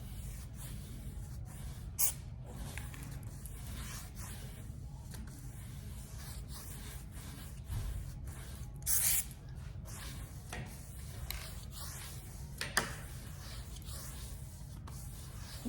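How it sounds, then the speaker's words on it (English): A steady hiss of an aerosol spray can running continuously, with a few short sharper bursts, close by and without talk. "Spray paint."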